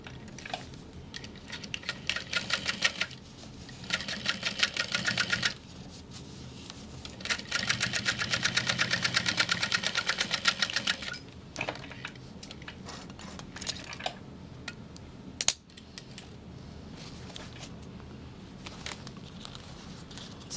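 A sewing machine top-stitches the side panels of a fabric baby sling, running in sustained bursts of rapid needle chatter separated by short pauses and quieter handling, fairly close and with no talking.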